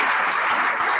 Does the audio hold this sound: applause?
yes